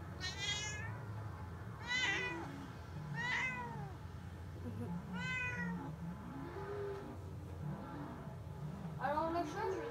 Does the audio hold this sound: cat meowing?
yes